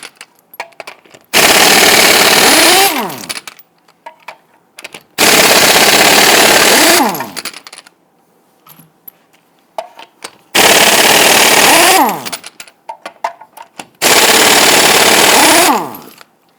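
An impact wrench with a 21mm socket loosens the lug nuts on a 2000-2006 Toyota Tundra wheel, firing four loud, close, rattling bursts of about two seconds each, separated by short quiet gaps.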